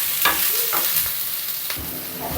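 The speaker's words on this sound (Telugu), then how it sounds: "టొమాటో కాస్త ఇలా అయిన తర్వాత మనం ఆనియన్ కూడా అందులో వేసుకోవాలి." Onion fries in oil with tomato in a pan for okra roti pachadi, a dense sizzle with a few stirring scrapes, close and steady throughout.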